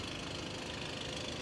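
Volkswagen Golf 7.5 four-cylinder turbo engine idling, a steady low rumble with faint mechanical ticking, heard continuously and fairly quietly with no talk.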